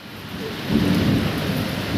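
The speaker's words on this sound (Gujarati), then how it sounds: "અમે દુકાને જતા હતા ને પાછું આવવું પડે બોલો વરસાદ ચાલુ થઈ ગયો" Steady rain pours down with deep thunder rolling in about halfway through, a broad continuous wash of sound that swells louder and stays heavy to the end, with no voices.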